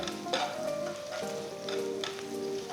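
Steady sizzling of onions frying in a pan for an eggplant curry, with occasional stirring scrapes, close and continuous with no voices.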